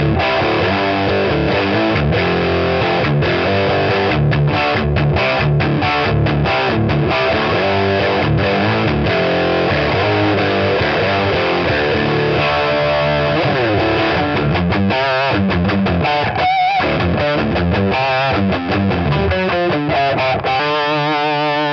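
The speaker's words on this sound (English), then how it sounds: "Their harsher, grittier distortion tone is more commonly associated with heavier styles of music, such as hard rock or grunge" Electric guitar driven through a distortion pedal, a harsh, gritty heavy-rock tone playing continuous chugging riffs with sharp stops and stabs, loud and steady for the whole stretch with no talking.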